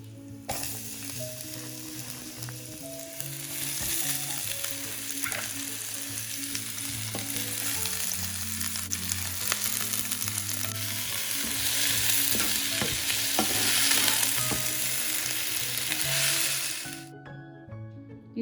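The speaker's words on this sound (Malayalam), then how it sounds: "ഈ സവോള ഒന്ന് പൊരിഞ്ഞ് വരാൻ വേണ്ടി മാത്രം കുറച്ച് ഉപ്പ്" Thinly sliced onions sizzle and fry steadily in hot oil in a pan, a close, continuous crackling hiss with occasional stirring clinks, with no talking.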